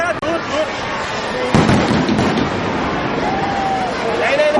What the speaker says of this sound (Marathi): फटाक्यांची आतषबाजी व लेझर शोचा नेत्रदीपक क्षण सर्वांनी डोळ्यात सामावून घेतला